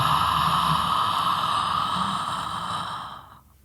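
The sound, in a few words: deep cleansing breath in and out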